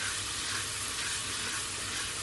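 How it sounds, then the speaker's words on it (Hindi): Black chickpea curry masala sizzles steadily while being fried, a continuous loud crackling hiss of oil with no pauses, up close and alone. "इसको अच्छी तरह से भून लें यहाँ पे"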